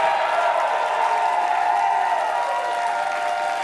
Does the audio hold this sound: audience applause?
yes